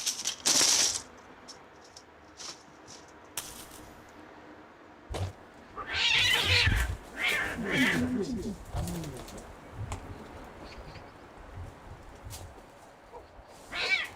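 Harsh, drawn-out yowls from unneutered male cats fighting over territory in breeding season rise and fall in a few bursts, separated by quiet stretches, with a brief sharp cry near the start.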